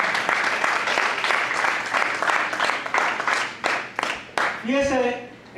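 Steady applause from a church congregation with many overlapping claps, fairly loud throughout, tapering near the end as a voice briefly cuts in.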